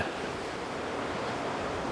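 Waves wash along the Jeju Olle Trail coast between Namwon and Pyoseon, a steady broadband roar of surf with light wind noise, continuous and fairly close, with no voices.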